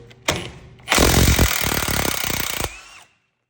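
An impact gun hammers loose a tight 21 mm caliper bracket bolt on a Nissan Rogue, with one short burst followed by a loud rattling run of nearly two seconds, close up, then silence.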